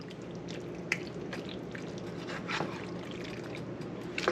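Thick, gloopy lobster mac and cheese sauce being stirred in a large pot, soft wet squelches and drips, quiet and close, with no one talking.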